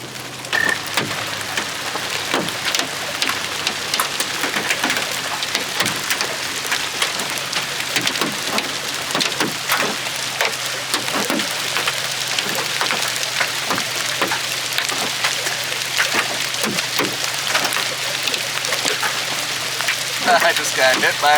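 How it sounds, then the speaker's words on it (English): Quarter-size hail clatters against a pickup truck during a tornado-warned storm, a dense, steady drumming of hard impacts on metal and glass heard from inside the cab for the whole stretch. "I just got hit by hail. I'm in the truck."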